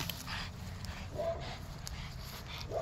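An old seven-year-old dog barks softly and whimpers during a playful game in a yard, short yelps and whines heard close over steady background noise.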